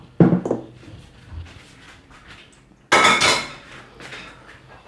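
A mixing bowl of whipped eggs for a light lemon cake is moved aside with a clattering knock, followed by quieter scraping and a second loud ceramic-and-metal clatter midway through.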